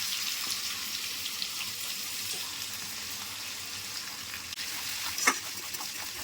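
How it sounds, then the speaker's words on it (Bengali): Chopped onion frying in oil with bay leaves and whole garam masala, for a raw jackfruit and prawn curry, gives a steady close sizzle with faint stirring and a brief clink near the end, no voices. "তারপর 2টো তেজপাতা আর কিছু গোটা গরম মশলা, সব কিছু মিক্স করে এবার কুচিয়ে রাখা পেঁয়াজটা দিয়ে দেবো।"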